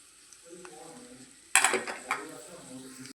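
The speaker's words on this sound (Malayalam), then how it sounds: "നല്ല ചിൽ ശബ്ദമായിരിക്കുകയാണ്. കറിവേപ്പില നല്ലതുപോലെ മൂത്തിരിക്കുകയാണ്." Curry leaves frying in hot oil for a curry-leaf pickle: a quiet hiss at first, then a sudden loud crackling sizzle as they hit the oil, with some stirring and a voice speaking over it.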